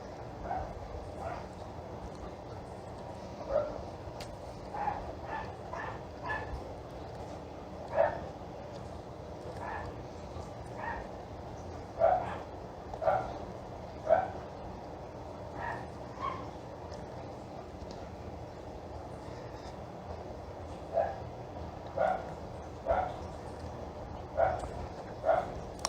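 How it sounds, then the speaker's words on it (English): Dogs bark at a neighbor's cat somewhere off in the distance, a scattered series of faint, muffled barks repeating over steady room noise. "my dogs are barking at a neighbor cat"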